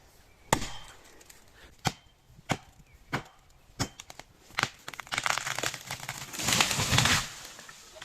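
Axe blows strike a massive tree by hand, seven or eight sharp, spaced chops ringing out close and loud, followed by a burst of crackling, splintering wood.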